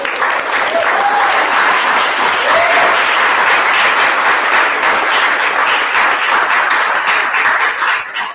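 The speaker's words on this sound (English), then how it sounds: "Please join in a warm round of applause." A lecture audience gives a warm, sustained round of applause welcoming a law professor, steady dense clapping close and loud throughout with a few brief whoops near the start.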